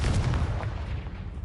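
A Confringo blasting spell in Hogwarts Legacy detonates as a short, heavy booming explosion, close and loud, with its rumble fading quickly.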